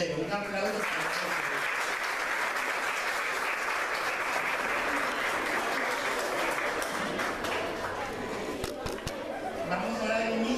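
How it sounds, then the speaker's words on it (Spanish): Parents and guests at a sixth-grade primary school closing ceremony give a long, steady round of applause for award winners, dense clapping mixed with crowd chatter and voices, sustained at an even level throughout. "Un aplauso para ustedes."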